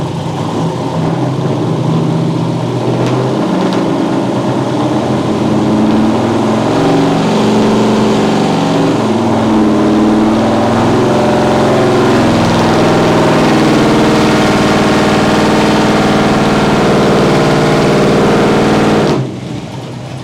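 A 350 crate engine fitted with a distributor idles close and loud, a steady, rumbling, slightly lumpy drone that runs continuously for about twenty seconds before it drops away at the end.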